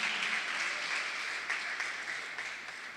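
Congregation applauding in a church service, a steady wash of many hands clapping, full and close, slowly tapering toward the end.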